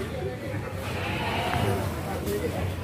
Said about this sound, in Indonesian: untuk yang blok sini nih kambing, jadi kambingnya ada di sini dan di depan ya